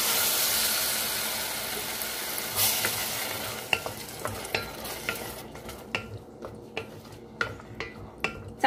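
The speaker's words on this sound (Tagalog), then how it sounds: "dahil nagkaramelize na yung ating onion, ilalagay naman natin yung ating tomato sauce." Tomato sauce poured over caramelized onions in a frying pan, bursting into a loud broad sizzle that fades into steady frying, then repeated sharp clinks of a utensil stirring against the pan.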